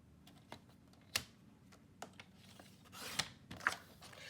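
A paper trimmer slices a small strip of paper, a sequence of faint, quiet clicks and short scraping snips spread across a few seconds, with no voices.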